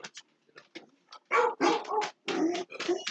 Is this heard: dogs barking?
yes